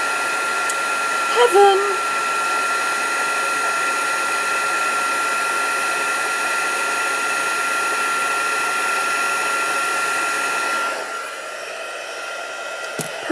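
A heat gun runs for heat embossing on a papercraft project, a steady close airy roar that holds for about eleven seconds and then cuts off, with a brief spoken exclamation near the start.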